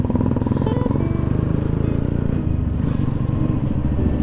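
Suzuki motorcycle exhaust note, a steady close-up mid-pitched engine drone with a fast regular pulsing throb, loud and unbroken with no talk.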